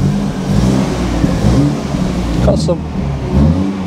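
A salvage-auction BMW 220i M Sport runs with a steady mid-pitched engine hum and mild rises in revs, close and fairly loud, while someone speaks briefly over it.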